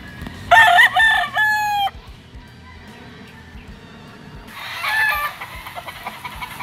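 A pure white Kelso gamefowl rooster crows loud and close, its shrill cock-a-doodle-doo rising and breaking, then crows again a few seconds later amid quieter farmyard noise.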